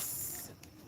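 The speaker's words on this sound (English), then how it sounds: "a spray bottle here, a pressure bottle" A short burst from a pressure spray bottle with a bicarbonate of soda mix hisses loudly, then quickly fades into a quieter background.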